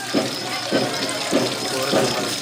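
Water pours down from above in a Navratri goddess decoration display, splashing in regular pulsing surges about every half second over a constant wash, with a faint murmur of voices nearby.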